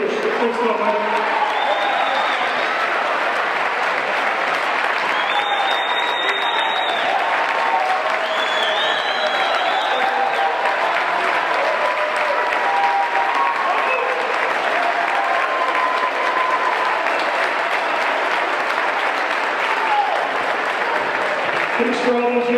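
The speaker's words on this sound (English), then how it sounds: "Let's give a big round of applause for our athletic director." Crowd in a school gym at a Gross Catholic versus Sioux City game applauds a retiring athletic director, a loud sustained wave of clapping and cheering lasting the whole stretch.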